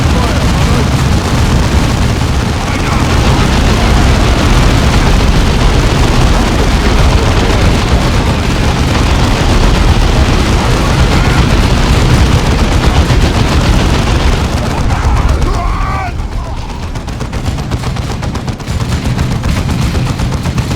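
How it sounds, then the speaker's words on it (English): Sustained heavy bolter fire in Warhammer 40,000: Dawn of War II, a loud, dense roar of rapid shots and blasts running for most of the stretch before dropping off near the end, with faint voices underneath. "Our heavy bolters are deadly, but they take time to set up and have a limited field of fire."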